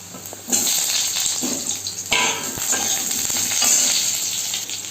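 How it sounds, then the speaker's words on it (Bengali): A whole potato fries in oil left over from frying lentil fritters, a steady crackling sizzle close by with brief louder bursts as it is stirred in the pan; no one speaks. "এই আলুটাকে সুন্দর করে আমি লাল লাল করে ভেজে নেব।"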